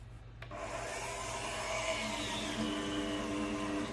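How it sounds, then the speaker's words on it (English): An electric hand mixer whirs steadily, beating orange pecan French toast batter made with orange juice: a sustained, even motor drone with a buzzy edge that starts abruptly and runs on at constant loudness. "So then, trusty hand mixer."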